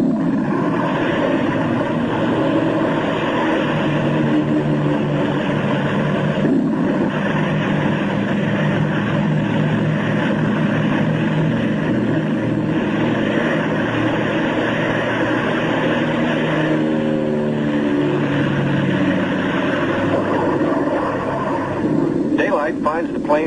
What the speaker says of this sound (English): They must risk a takeoff in darkness before the terror of the storm strikes.